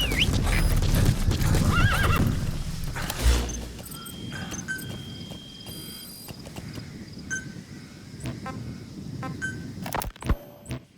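A horse in the video game Metal Gear Solid V: The Phantom Pain whinnies loudly, then clip-clops along with rhythmic hoofbeats amid jangling tack and scattered game sound effects, with no speech.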